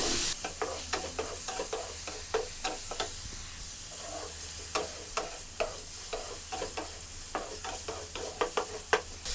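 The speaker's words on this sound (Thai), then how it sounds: "เติมน้ำมันของเราได้เลย ไม่ต้องเยอะมากนะครับ ประมาณสักสองช้อนโต๊ะ ขั้นตอนนี้ผัดเลยครับ" Chinese sausage stir-fried in about two tablespoons of oil, crackling sizzle under a steady run of sharp spatula scrapes and knocks against the pan, close and with no talk.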